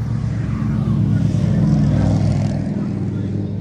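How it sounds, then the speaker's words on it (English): Motor vehicles rumble steadily in the background, a continuous mid-distance engine drone with no speech over it. "Motorcycles in the background"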